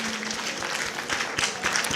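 Audience in an auditorium at an education awards ceremony clapping again, a steady moderate wash of applause with some louder sharp claps near the end.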